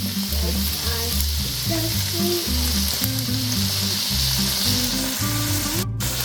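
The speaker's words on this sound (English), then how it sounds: "Our very next step is to add some soy sauce" Soy sauce hits a hot pan of chicken fried rice with green onions, a loud, dense, continuous sizzle and frying hiss under a steady low hum, close up, with brief stirring and no speech.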